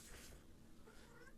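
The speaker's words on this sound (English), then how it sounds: "Leave a comment if you can hear my cat" A pet cat meows and cries indoors, a faint drawn-out call followed by softer whines, quiet and with no talk.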